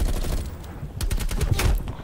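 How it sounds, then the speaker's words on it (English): Rapid bursts of Bullfrog submachine gun fire in a video game, loud and close, with a brief pause before a second stretch of sustained automatic shots. "I'm playing on my bullfrog submachine gun"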